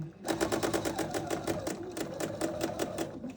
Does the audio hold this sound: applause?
no